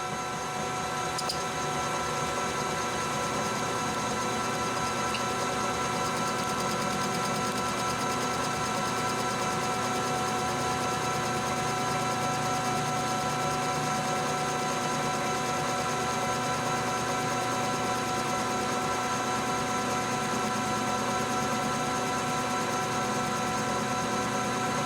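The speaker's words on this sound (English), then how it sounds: "Let's just do a facing cut here at 440 RPM," A lathe takes a facing cut on titanium at 440 RPM, giving a steady, quiet mechanical hum with a fast regular rhythm from an interrupted cut. It runs evenly throughout with no speech.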